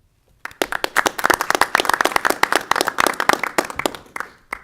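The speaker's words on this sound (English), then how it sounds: "Give their parents a round of applause." A crowd at a school board of education meeting breaks into sustained applause, many hands clapping densely and loudly for several seconds before tapering slightly at the end.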